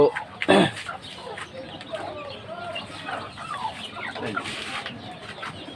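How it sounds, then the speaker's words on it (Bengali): Chickens cluck and call while brooding in a busy farm coop, a louder squawk early on, then steady low clucking and rustling throughout with some faint background voices. "এই যে দেখেন মুরগি কুচে বসেছি"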